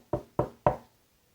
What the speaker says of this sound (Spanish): llamó a la puerta